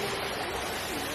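Upper Manoa Falls in Hawaii, heard as a steady, full rush of falling water with an even hiss and no pauses.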